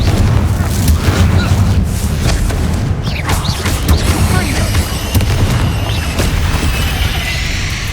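Confringo spell blast in Hogwarts Legacy, a loud booming explosion with rumbling, crackling debris over several seconds, close and heavy throughout.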